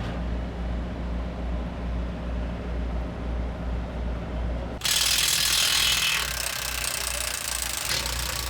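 A ratchet wrench works on a truck wheel during a roadside tyre change, giving a steady mechanical clatter that suddenly turns louder and harsher midway, with a constant low engine hum underneath.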